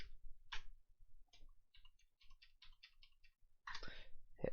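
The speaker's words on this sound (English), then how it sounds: "We just click on our username and then type in our password." Sharp mouse clicks followed by a run of light keyboard taps while logging in with a username and password during an Ubuntu install in VirtualBox; close, crisp and fairly quiet, ending with a louder burst.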